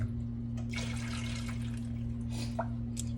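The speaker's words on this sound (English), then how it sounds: "Pour that water off, put some clean water on it." Water runs into a pot during home canning of mushrooms, a soft, faint splashing trickle that rises and falls over a steady low electrical hum.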